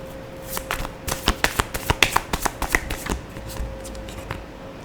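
Tarot cards are shuffled by hand in a quick run of crisp riffling snaps, close and distinct, bunched in a burst mid-clip before tapering into a few softer flicks.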